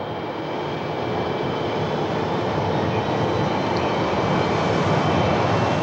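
A research airplane in flight fills the cabin with loud, steady broadband engine and airflow roar, constant throughout with no speech.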